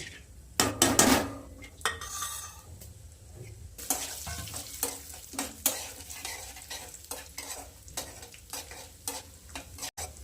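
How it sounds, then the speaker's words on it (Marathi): Coarsely crushed almonds and cashews fry in ghee for a Navratri sweet potato barfi, with a steady soft sizzle under repeated spoon scrapes and clinks against the pan, loudest near the start. "बदाम आणि काजू कुटून घेतलं ते आपण पूर्ण बारीक नाही केलेलं हे ना तुपात टाकून घेऊया"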